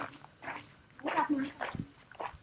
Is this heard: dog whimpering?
yes